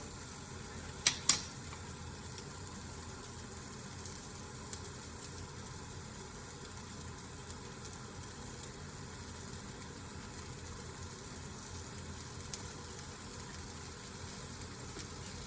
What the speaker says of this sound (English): We got the steak and everything heated up nicely here in the pan